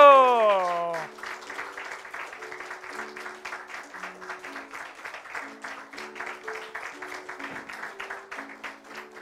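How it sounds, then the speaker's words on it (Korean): During an infant baptism in church, a congregation claps in a steady rhythm as a child enters with the mother, with a brief tone at the start and voices under the applause. "뜨겁게 박수로 맞아주시길 바랍니다."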